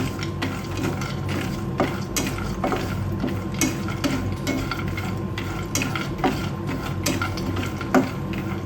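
Dry seeds rattle and scrape in a pan as they're stirred, a steady gritty churning with repeated scraping strokes and a faint sizzle underneath.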